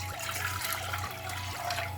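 Water pours steadily into a pot of kimchi and mushroom soft tofu soup, a continuous close trickle and splash with a slight rhythmic pulsing throughout.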